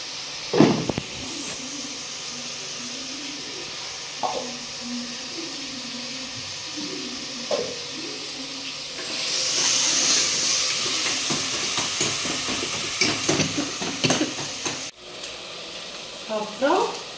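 Salted tomatoes sauté in a pan for egg biryani, making a continuous close sizzle and hiss that grows louder partway through, with occasional stirring clatter.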